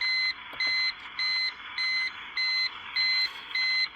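An uninterruptible power supply fitted with a LiFePO4 battery beeps in a steady, evenly spaced pattern, eight short high-pitched tones repeating without pause, fairly clear and close.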